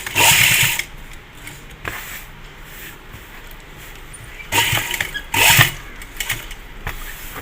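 A sewing machine stitches a folded jubba seam in short whirring bursts, one at the start and two more later, with quiet pauses and handling noise between runs.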